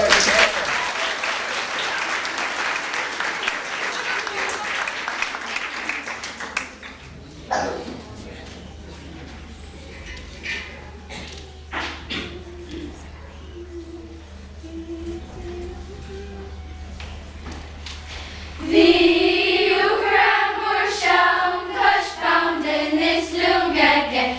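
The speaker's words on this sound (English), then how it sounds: "I think we should give them a round of applause" An audience at a concert applauds the performers: loud, dense clapping for several seconds, then a quieter stretch with scattered sounds and talk, before loud clapping and cheering or singing voices return near the end.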